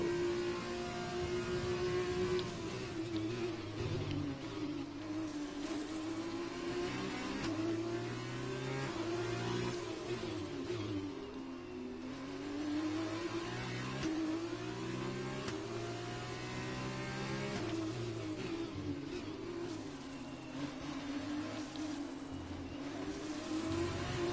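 An F2 racing car engine in the video game F1 2020 revs and whines continuously, pitch rising and falling through gear changes, loud and sustained with no talking.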